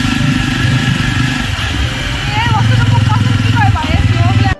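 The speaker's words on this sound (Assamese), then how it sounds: "বলকচোন এপাক আমি ফুৰি আহোঁগে মানে প্ৰণৱৰ বাইকখন লৈ অকণমান ফুৰি আহোঁগে" A Jawa motorcycle rides along with its mid-pitched engine droning steadily and loudly throughout, rising slightly in the second half, while people talk over it.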